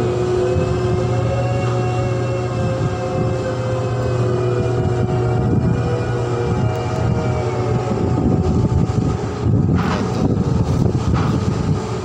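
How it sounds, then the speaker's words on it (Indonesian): Generator room aboard a floating crane ship with the main engine generators running, a steady loud mechanical drone with strong low hum and tonal whine, continuous throughout with no talk. "Nah, itu ruang gensetnya ya"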